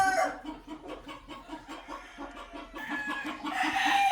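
Hebron gamefowl chicken clucking in a steady, rhythmic series of close, moderately loud clucks, with a brief crow-like call, alone with no talk.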